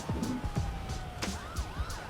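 GTA 5 Online police car siren wailing in sweeping, looping tones with a yelp-like warble near the end, loud and alone without any voices.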